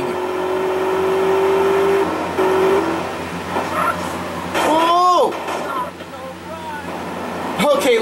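A car racing along in GTA San Andreas, its engine drone loud and steady before pitching up and down in sharp revving sweeps, with a brief screeching slide near the end.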